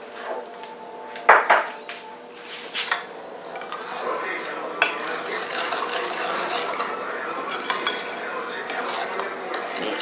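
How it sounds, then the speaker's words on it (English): Milk and sugar mixed in a bowl for Spanish bread dough, with repeated clinks and scrapes of a utensil against the bowl, sharper knocks early on, then a steady stirring rustle close by. "You need to mix this well."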